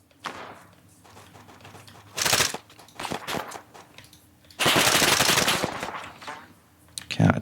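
A machine gun fires in ARMA 3 during a 12v12 PvP match, with a short burst followed by a longer sustained burst, loud and close, alongside quieter game sounds.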